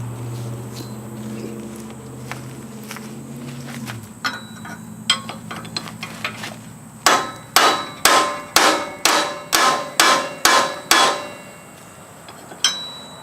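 Sharp metallic hammer strikes on a hay tedder under repair, scattered at first then a steady run of about ten loud, evenly spaced clangs, with a low hum fading early on.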